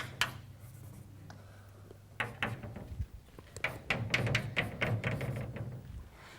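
Marker or chalk writing on a board in a lecture hall, a run of short scratchy strokes that grows busier and louder in the second half over a low room hum.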